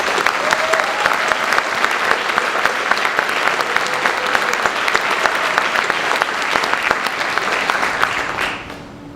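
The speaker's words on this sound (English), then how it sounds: "Please give me a round of applause for Harold." Sustained, loud applause from a large audience at an honor ceremony for the Tuskegee Airmen, dense and even for several seconds before tapering off at the very end.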